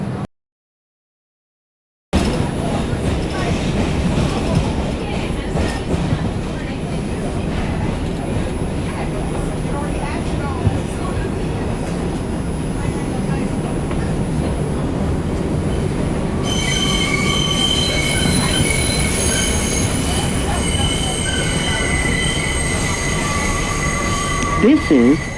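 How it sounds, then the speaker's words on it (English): A New York City subway 2 express train on the Brooklyn-bound run gives loud, sustained wheel squeal over a constant rumble of rolling cars, the screech growing sharper and more tonal in the later stretch. Speech is faint under the train noise. "This is a Brooklyn-bound 2 express train."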